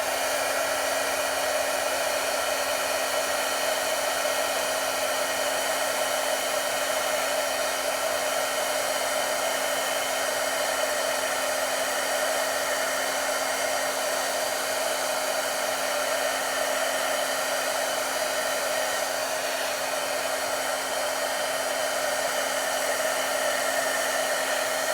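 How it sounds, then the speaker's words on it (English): A heat gun warms leafing wax on embossed paper, giving a steady, loud blowing whir with a constant hum that runs unbroken throughout, no voices. "as you move the heat gun along it, you'll see the shine from the leafing wax"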